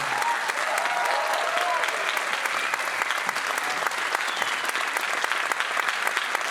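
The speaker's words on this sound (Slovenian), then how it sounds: "dajmo prosim en velik aplavz za našega Tomaža" A large audience at a concert applauds steadily and loudly throughout, a dense sustained wash of clapping with no break.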